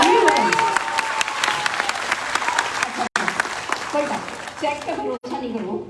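Applause from an audience at a Modicare marketing mentorship talk, a dense patter of claps throughout, with a short dropout partway and another near the end before it thins out.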